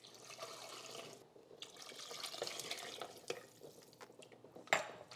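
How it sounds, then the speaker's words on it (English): Water pours steadily from a tap or jug into a cooking pot of borscht in a home kitchen, a continuous splashing rush with a brief clink near the end and no talking. "6 cups of water have been added."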